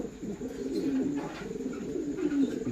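Lahore pigeons coo steadily in low, throaty rolling phrases, several birds overlapping close by with a soft continuous burble and no talking.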